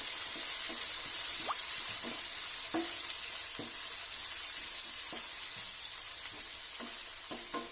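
Four large sliced onions sizzle steadily in hot oil for Bangalore chicken donne biryani, with regular scraping clicks of a spoon stirring them through the continuous close frying hiss.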